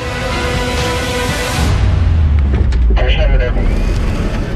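Electric Corvette GXE racing along a track on a speed record attempt, a loud, near whine and road roar that swells midway as the car passes, with tonal electric motor harmonics, over a background of ambient noise.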